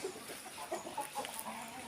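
Peru cross hens at a breeding unit cluck softly in short, scattered calls, faint and fairly close amid hissy background noise.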